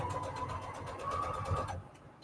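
Sewing machine stitching the corner of a soft fabric cover made with Peltex #70, a faint steady whirring run with fast repetitive needle ticks that stops near the end.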